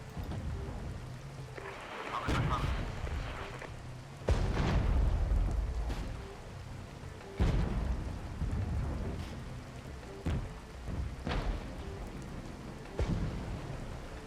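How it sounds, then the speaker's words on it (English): Mortars firing in the Regiments war game during a night battle, several deep booming blasts spaced a few seconds apart over a constant rumbling, rain-like wash of distant combat. "mortars firing away again"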